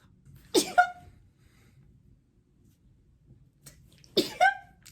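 Two sharp sneezes a few seconds apart, close by, with quiet room noise between them.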